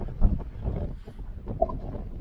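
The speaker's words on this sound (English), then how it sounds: "It's very, very windy." Strong wind on a clifftop buffets the microphone in heavy, uneven gusts, a close low roar that surges and drops.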